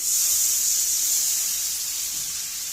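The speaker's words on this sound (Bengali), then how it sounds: "পানি দিয়ে দিচ্ছি।" Water hits a hot pan of chicken curry, giving a loud, steady hiss that slowly eases off over a few seconds, with no voices.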